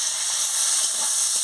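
Prawns fry in hot oil in a wok with a steady, bright, close sizzle that hisses evenly throughout the short stretch, with no talking.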